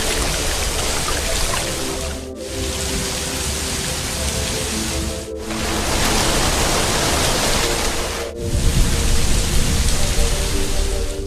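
Heavy rain pours down in a dense, steady roar with gusts of strong wind swelling and fading, broken by a few brief drops in level; no voices are heard.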